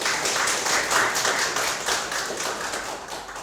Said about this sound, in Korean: 고생하신 그 발표자 토론자 선생님한테 다시 한번 박수 좀